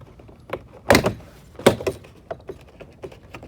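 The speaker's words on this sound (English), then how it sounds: "Whole door panel comes off, just like that." Interior door panel of a Dodge Challenger being pried off, two sharp close pops as the clips release, followed by lighter plastic rattles and taps.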